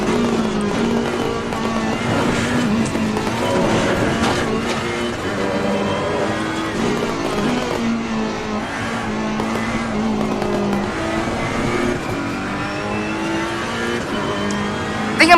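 Race car engine in Assetto Corsa Competizione roars steadily throughout, rising and falling in pitch through gear changes, with brief tyre noise and a loud, continuous close-up drone.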